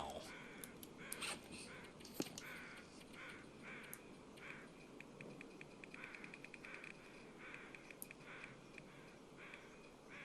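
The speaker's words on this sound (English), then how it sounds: "So these crows sound way too close to just be..." Crows caw nearby in The Long Dark, a wintry survival video game, their repeated harsh calls coming in scattered bursts over a quiet ambient background.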